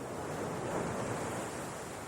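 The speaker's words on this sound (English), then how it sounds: "The waves roll in all the way from Greenland." Arctic ocean surf rolling in from Greenland, a steady, loud wash of breaking waves with wind buffeting the microphone and no voices.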